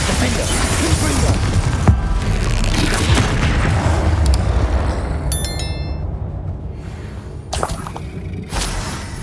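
Spell blasts and explosions in Hogwarts Legacy combat, a series of loud booming impacts and whooshes with bright chiming flashes, dense at first, then thinning out to scattered hits near the end.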